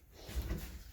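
A kitchen cabinet's interior drawer slides open or shut with a soft, muffled rumbling thud, a single brief movement heard quietly and close.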